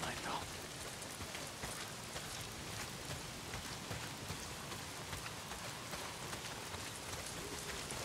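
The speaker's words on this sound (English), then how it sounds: "not if it's pissing down rain" Heavy rain pours down steadily in the Days Gone video game, a dense, constant hiss of downpour on surfaces with no breaks across the whole stretch.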